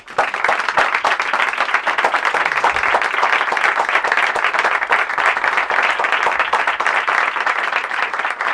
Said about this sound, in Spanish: yo pido a nuestros católicos y católicos de hacer un aplauso por su humanismo